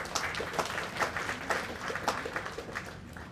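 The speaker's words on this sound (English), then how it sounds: "So you need a huge round of applause. Please clap for yourself." An audience at a national HR conclave claps for themselves, a moderate, uneven burst of many hands with scattered sharper claps rising and falling across the room.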